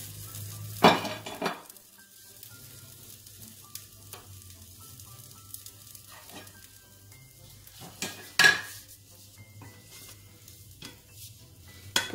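A tortilla is laid into a pan and toasts, giving a quiet low steady sizzle with a few clinks of utensils and pan handling, two sharper knocks standing out, no talk.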